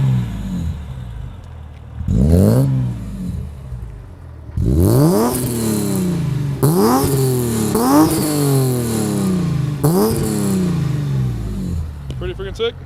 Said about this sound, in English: Supersprint No racing and muffler, no cats.